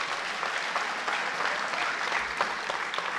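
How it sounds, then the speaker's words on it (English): Steady, dense applause fills a school spring sports awards ceremony as the crowd cheers the coaches presenting that evening, continuous clapping throughout with no break. "Let's give a bigger round of applause to all the coaches presenting here tonight"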